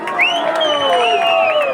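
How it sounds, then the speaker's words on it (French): A live audience cheers and whoops loudly for a costumed club mascot, with rising and falling shouts from many voices packed close together. "On l'applaudit bien fort."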